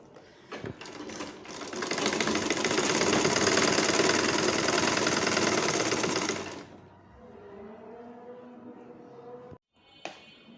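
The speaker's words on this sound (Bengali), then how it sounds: "এখন বেলটা সেলাই করে নিচ্ছি ভালোভাবে, ভাঁজ করে তারপর সেলাই করে নিচ্ছি এইভাবে।" A sewing machine stitches a folded bra band, running in a loud continuous whirring burst for several seconds, then slowing to a quieter uneven hum before a brief stop and restart, close up with no speech.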